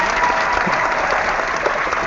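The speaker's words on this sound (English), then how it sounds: "that deserves a nice little clap" Steady clapping from a small group runs continuously, close and even, with no voices over it.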